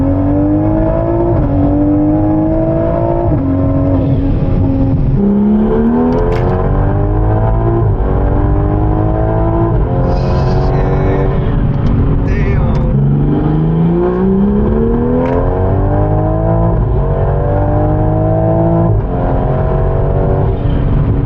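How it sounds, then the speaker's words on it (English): A modified Toyota Supra accelerates hard, its engine note climbing repeatedly through the revs with brief drops at each gear change, loud and close the whole time. "the Supra was getting quicker and quicker"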